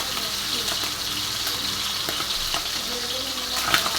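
Boiled bitter gourd (ampalaya) sautéing in a hot pan, a steady close hiss of frying with scattered crackles and a few stirring scrapes throughout, loud and continuous with no talk.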